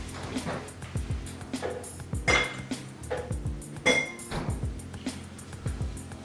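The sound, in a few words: mixing with a fork in bowl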